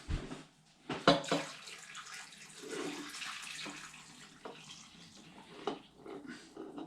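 Hot apple juice, just off the boil, poured into a crock pot slow cooker over pork, giving a steady close splashing and gurgling pour that runs continuously for several seconds.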